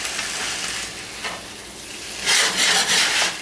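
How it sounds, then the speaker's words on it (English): Meat seasoned with Cajun bell pepper seasoning is stirred while frying in a pan, a steady close sizzle with scraping strokes that swell louder near the end. "Now we're going to mix it in so that it can be absorbed into the flavor of the meat while the meat is cooking."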